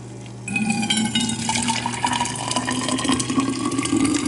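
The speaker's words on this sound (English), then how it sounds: "watching the water go into the thermos" Water pouring steadily into a green Stanley steel thermos, a close, continuous splashing fill that starts after a brief quieter moment and rises slightly in pitch as the vessel fills.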